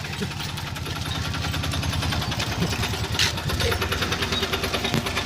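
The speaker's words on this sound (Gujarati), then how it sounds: "જો દૂધની ગાડી આવી આપણે" A milk collection truck's engine idles nearby at a dairy pickup with a steady low rumble and rattle, holding constant throughout.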